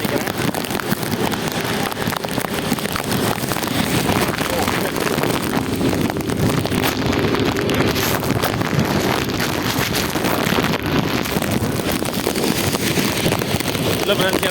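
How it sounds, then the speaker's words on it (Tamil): Strong cyclone wind roars without pause, a dense, loud rush buffeting the microphone throughout with no breaks. "காற்று ரொம்ப ரொம்ப ஹெவியாக வீசுது"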